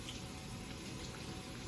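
Tap water runs steadily into a kitchen sink while a piece of raw steak is rinsed, a soft continuous rushing hiss with no break.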